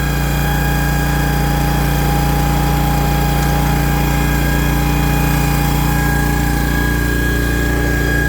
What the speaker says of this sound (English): The hydraulic fluid's cold. It's whining.